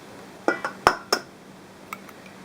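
Extra large organic eggs are cracked one after another into a glass bowl, giving a few sharp glassy clinks and taps close by in a quiet kitchen, with a fainter knock near the end.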